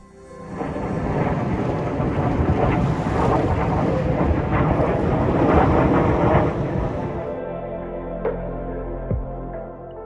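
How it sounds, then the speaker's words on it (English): A fighter jet from a nearby air base roars low overhead at a Florida beach campground, a loud, sustained broadband rumble that fills most of the stretch before cutting off abruptly, leaving faint ambient noise. "it's awesome to see the fighter jet pilots that will go right over top as you're walking"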